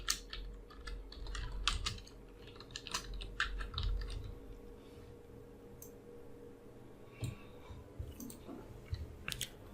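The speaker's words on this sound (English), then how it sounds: "Now again type whatever you want." Text typed on a computer keyboard in a quiet room, a run of quick, close key clicks in uneven bursts with short pauses, over a low steady hum.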